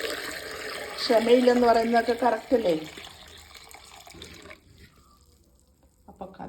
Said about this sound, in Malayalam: ഇനി നമുക്ക് കലത്തോടെ ഒഴിക്കാം.